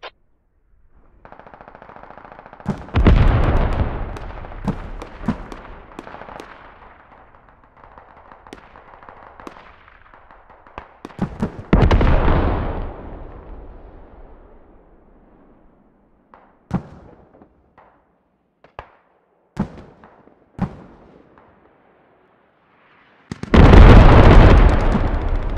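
Artillery barrage in the military shooter game Squad: heavy booming explosions arriving in several separate blasts, some drawn out and rumbling, others short sharp cracks, with near-silent gaps between impacts and a final loud roaring blast.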